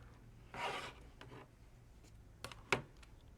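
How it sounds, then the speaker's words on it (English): A blade cuts through quilting fabric in a short rasping swipe, followed by a few fainter scraping strokes and two sharp clicks, all quiet and close with no talking. "Make sure you cut all the way through your fabric."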